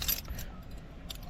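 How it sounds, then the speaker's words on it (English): A bunch of keys for a camper van, the Kozy Koa, jangles briefly up close, with a short metallic rattle at the start and another faint rattle near the end. "and the keys will be in there"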